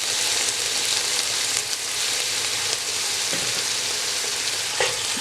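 Minced beef fries in melted coconut oil in a wok, a steady dense sizzle and crackle holding level throughout, with a few brief stirring scrapes rising above it.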